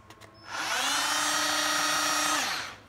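A 24V cordless drill running in non-hammer mode spins up after a couple of clicks, holds a smooth, high, steady whine up close, then winds down at the end.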